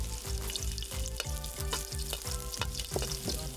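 Garlic fries in a hot pan for poqui-poqui, a steady close sizzle with a rapid pulsing crackle and faint stirring, no voices.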